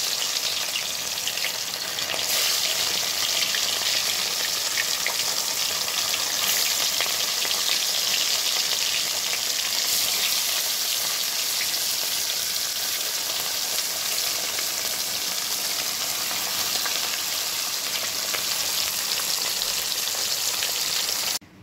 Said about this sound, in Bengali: তেলটা গরম হয়ে গেছে, এবার কাতলা মাছগুলো আমি দিয়ে দিচ্ছি।